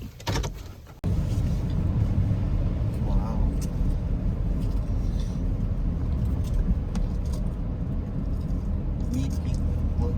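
A car driving along a road in Shenandoah National Park, a steady low rumble of engine and road noise heard from inside the cabin, with people talking briefly.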